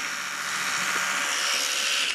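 Several Braun Oral-B Vitality 3D White D12 electric toothbrushes run together with a steady, high-pitched buzzing whine that stays even and unbroken, close up, with no talking over it.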